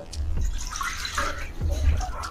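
Water poured into a kadhai (cooking pan) while preparing an Odia potato curry, a steady close splashing and trickling that runs throughout.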